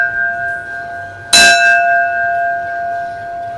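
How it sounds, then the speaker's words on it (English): A real brass bell is struck once, close and loud, with a bright clang that settles into a long ringing hum, heard outdoors in Key West, Florida. "she's got to ring the bell"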